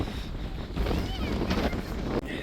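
Strong wind buffets the microphone on a hilltop at sunset, a continuous loud rushing roar with gusty swells, briefly under a voice.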